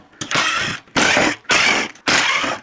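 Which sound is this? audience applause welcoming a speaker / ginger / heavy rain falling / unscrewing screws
unscrewing screws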